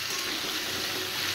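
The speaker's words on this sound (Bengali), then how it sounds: "প্রথমে আমি গাটকচু আর আলু একসাথে ফ্রাই করে নেব।" Taro and potato pieces with turmeric and salt fry in a pan. A loud, dense, steady sizzle runs without a break from start to end, with no voices.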